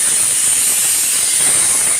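A pressure cooker cooking dal vents steam in a continuous loud, close hiss that holds steady without a break, with no talking.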